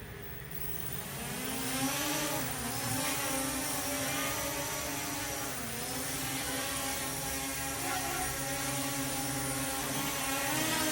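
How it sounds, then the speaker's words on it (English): A small Dynalog DG600C toy drone's propeller motors spin up and whir steadily indoors, a close, rising buzzing drone that holds with slight wavering pitch, no talk. "See, now just try to slowly lift the drone."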